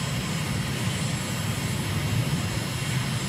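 Steady engine drone of an aircraft on a leisurely approach to runway 23 left at Damascus in Microsoft Flight Simulator, a continuous loud hum with no talk.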